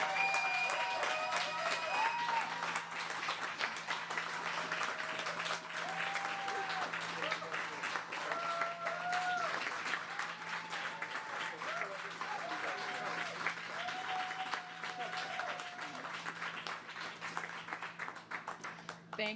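A crowd at a 2021 Canadian federal election event applauds Green Party leader Annamie Paul, sustained clapping and cheering continuing for many seconds with voices mixed in.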